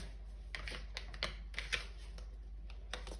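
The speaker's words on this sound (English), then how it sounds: "we're gonna pull some more cards" Tarot cards are pulled and shuffled from a deck, giving a series of soft, quick taps and flicks at an uneven rhythm over a low steady hum, with no talking.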